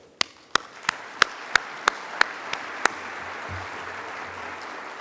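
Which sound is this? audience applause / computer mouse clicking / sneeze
audience applause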